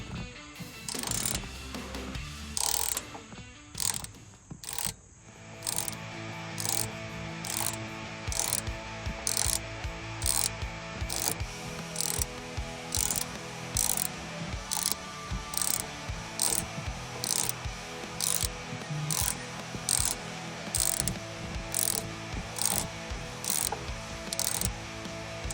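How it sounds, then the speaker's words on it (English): A ratchet fitted with a T50 Torx bit turning a fastener to remove a cover casing. It gives a long, steady run of close, loud, evenly spaced clicks after a few irregular turns at the start. "You need a T50 Torx bit with your ratchet."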